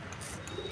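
Pigeons kept in a loft covered for winter give a brief, faint, low coo in the background, with no speech.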